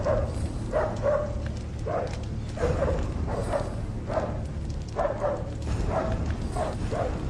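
Dogs bark in repeated bursts over a dense, noisy backdrop with a low steady hum, several yips and bow-wows spaced through a dramatic scene about setting dogs on a captive.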